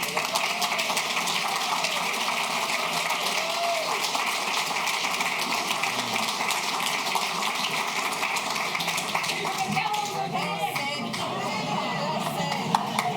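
A crowd applauds after a youth ambassador's speech, a dense, continuous wash of clapping that holds steady throughout and carries a faint hum and a few scattered voices beneath it.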